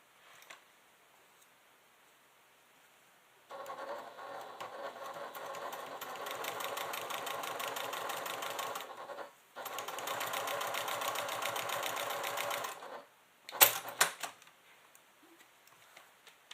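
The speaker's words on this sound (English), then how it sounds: "we're going to top stitch because we want to hold that in place" A sewing machine topstitches a leather clutch pocket in two long steady runs of rapid, even stitching, separated by a short pause, ending with a few sharp clicks.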